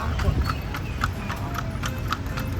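Hooves of a horse pulling a carriage through the town streets of Lampang clip-clop in a steady trotting rhythm, mixed with road noise and people talking nearby.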